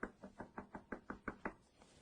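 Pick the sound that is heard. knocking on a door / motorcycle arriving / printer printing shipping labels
knocking on a door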